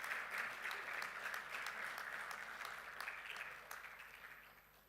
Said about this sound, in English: can I ask them to rise up, and they have and give them applause of.